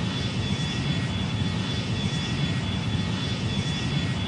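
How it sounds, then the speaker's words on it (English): Airliner engines drone steadily in the Rortos Extreme Landings flight game, two of them switched off, giving a constant broadband roar with a faint steady whine, loud and unbroken with no talk. "I switched off two of the engines."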